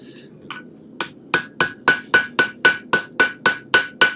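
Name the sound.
hammering over the tip of a damascus steel blade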